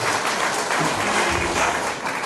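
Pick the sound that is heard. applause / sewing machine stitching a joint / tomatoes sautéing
applause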